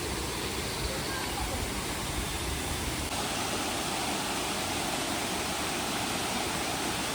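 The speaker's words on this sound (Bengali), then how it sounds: "আর ঝর্ণার প্রচণ্ড আওয়াজ হয়েছে এখানে" The waterfall at Rock Garden near Darjeeling roars as a loud, steady, unbroken rush of water that fills the whole clip with no pauses.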